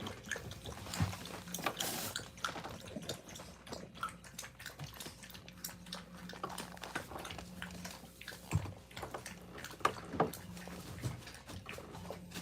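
A dog laps up water indoors at a rescue dog day care, producing quick, irregular wet slurps and drips that are close but fairly quiet, with no talking.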